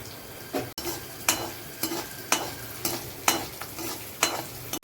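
Turmeric and a tempering of green chillies sizzle and fry in a pan for lemon rice, with a spoon scraping through it in a steady rhythm of strokes about every half second, close and fairly loud.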